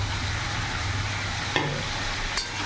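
Mixed vegetables with green chilli and grated ginger are stir-fried in a pan, giving a constant soft sizzle with a couple of sharp spatula scrapes near the end.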